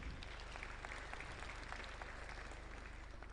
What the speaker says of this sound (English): the claps are receding with time